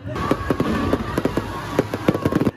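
Fireworks crackle and pop in rapid irregular bursts at the opening of a Christmas village at Heritage Plaza in Mandaue City, many sharp reports over a steady background rumble.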